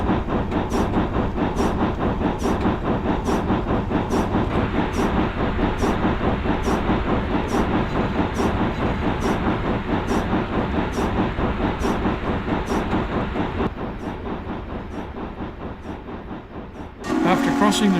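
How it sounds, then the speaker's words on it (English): A test train in Train Simulator 2017 rolls slowly past a workers' camp on a 1954 route, its steady rhythmic clickety-clack of wheels over rail joints loud and continuous, with hiss and rumble, easing off near the end before a sudden burst. "The train scheduled to test this trestle makes its way slowly past the workers' camp"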